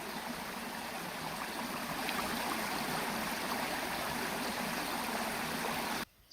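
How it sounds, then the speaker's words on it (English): A bubbling stream flows just opposite a car park in Snowdonia, a steady close rush and babble of water that continues evenly until it cuts off abruptly near the end. "You could hear in that clip the sound of this rather beautiful bubbling stream just opposite the car park."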